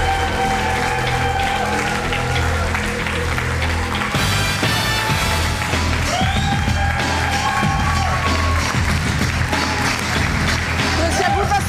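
A television studio audience bursts into cheering and applause to welcome a guest, sustained clapping and whoops filling the room at steady loudness, with a host's voice faintly beneath the crowd.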